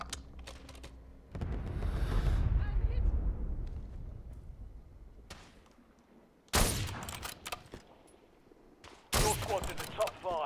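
Video game gunfire arriving in sharp bursts: a heavy rumbling volley early, then two loud, abrupt sprays of automatic fire later, separated by quieter stretches with faint clicks and low game ambience.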